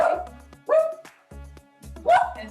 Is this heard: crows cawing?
no